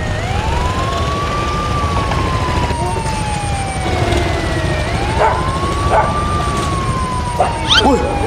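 A video game ambulance siren wails, rising and falling steadily, loud and close, while voices chatter and a few short bursts pop in.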